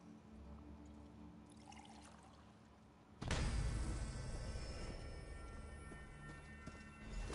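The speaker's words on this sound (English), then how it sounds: "Just pour all the ingredients into the thing on the floor over there." Ingredients are poured into a vessel on the floor in a video game: a quiet lull, then a sudden loud, sustained rushing pour that holds steady for several seconds with no talking.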